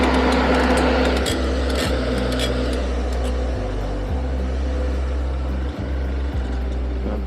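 A KTM Duke 390 motorcycle engine hums steadily during a river crossing, a constant close engine drone with a few brief dips in the low rumble.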